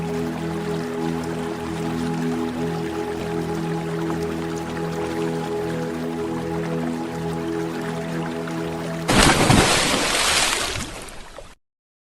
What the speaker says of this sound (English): Oh, the sound of water.